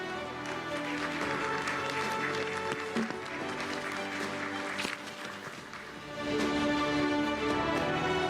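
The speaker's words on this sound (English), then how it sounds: "let's give Emre Gover a round of applause" An audience at an award ceremony during an education conference in Dubai applauds with a steady, dense wash of clapping that swells slightly near the end.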